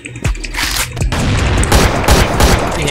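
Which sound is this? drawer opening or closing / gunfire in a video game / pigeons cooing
gunfire in a video game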